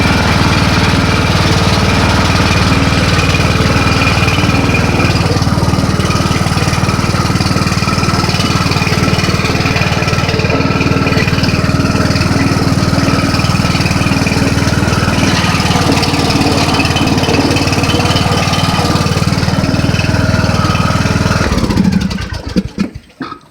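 A 2014 John Deere D110 lawn tractor's engine runs loud and steady up close while being ridden, a continuous droning hum that holds for most of the stretch before cutting off abruptly near the end.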